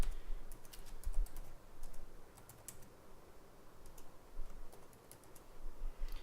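Fingers typing a terminal command on a computer keyboard, quiet rapid clusters of key clicks with short pauses between bursts, heard alone.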